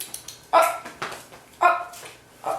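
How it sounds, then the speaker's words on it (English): A pet dog barks three times at roughly one-second intervals, close and fairly loud, with quiet room noise between the barks. "This is my dog."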